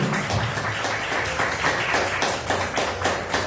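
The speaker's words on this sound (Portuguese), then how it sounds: "E as palmas que glorificam o nome do Senhor" A church congregation applauds to glorify the Lord, steady dense clapping from many hands filling the room at an even level throughout, with no voices standing out.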